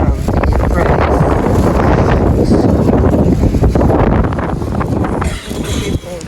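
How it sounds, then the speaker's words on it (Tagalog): Strong wind buffets the microphone outdoors in Taiwan, a loud, steady roaring rumble that persists throughout and eases slightly near the end. "masyadong malakas talaga yung hangin guys"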